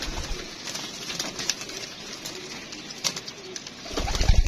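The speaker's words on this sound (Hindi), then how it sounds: "ये माशाल्लाह कबूतर है दोस्तों हमारे पास" Pigeons in a home loft coo softly in low, murmuring calls, close by, with some rustling and shuffling that grows louder toward the end.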